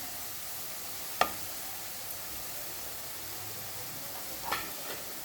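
Carrots fry in a pan with turmeric and salt, a steady faint sizzle with a couple of brief scraping stirs and no talk.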